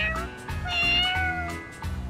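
A cat meows in Yakuza: Like a Dragon, two or three clear, close, drawn-out meows in quick succession with no talking over them.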